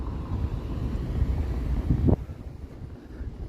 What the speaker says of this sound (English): there's actually a pretty good wind to kind of cool you off when it gusts up